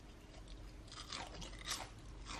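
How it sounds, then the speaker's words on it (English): Close, quiet crunching of a crispy cauliflower snack, with several bites and chews in an uneven rhythm and no talking. "So this is like the perfect little crunchy snack right here."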